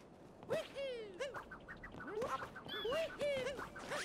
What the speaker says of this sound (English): No! Bad bird! You're supposed to get hit by my cap!